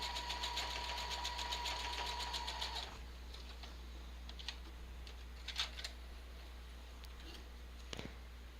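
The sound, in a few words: sewing machine stitching on paper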